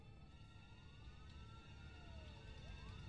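Police siren from the video game A Way Out, a wailing emergency-vehicle tone sweeping up and down, faint and steady over a low engine-like rumble throughout.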